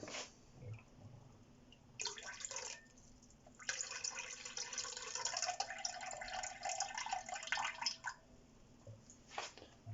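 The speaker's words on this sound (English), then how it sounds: "then top the rest up with cold water" Cold water pours and splashes into a jug of juice for a jelly mix in a kitchen, in several bursts of a steady gushing stream with short pauses between them, moderately close.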